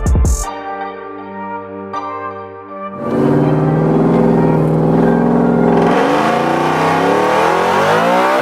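A Ford Raptor pickup's engine runs on a dyno, starting at a steady idle, then climbing into a loud sustained rev that holds high and strains upward again near the end, close and dominant with no talk.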